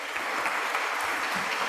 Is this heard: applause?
yes